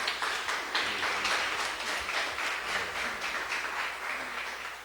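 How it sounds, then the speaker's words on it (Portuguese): A church congregation claps together during a service, a steady, rhythmic patter of many hands that holds at an even level from start to finish. "Pode bater palmas."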